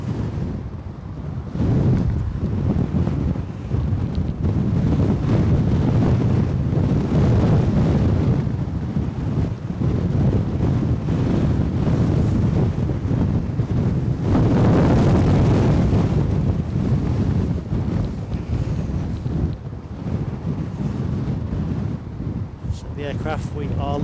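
Strong, gusty wind batters the microphone at Edinburgh airport in gusts of over 50 mph, a loud, continuous low roar that swells and eases, with a voice faintly buried underneath.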